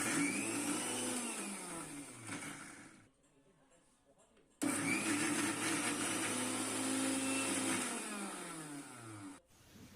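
A kitchen mixer grinder spins Centella asiatica leaves with a little water, giving a loud steady whirring motor whine in two long runs split by a short quiet pause, close up.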